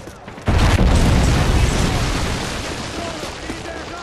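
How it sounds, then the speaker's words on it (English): A heavy missile explosion in Call of Duty: Modern Warfare 3 lands with a sudden loud boom about half a second in, then rolls into a long rumbling decay. "Friendly predator missile inbound."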